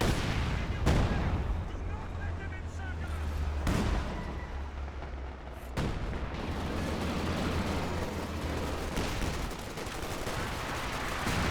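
Zis artillery barrage in the Company of Heroes 2 video game, several heavy booming impacts spaced a couple of seconds apart over a rumbling battlefield din, with someone talking over it throughout.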